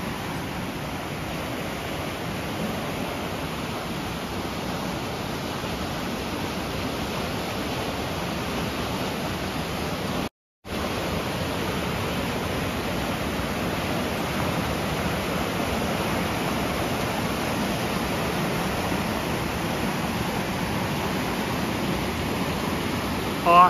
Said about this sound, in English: Great sound of the water.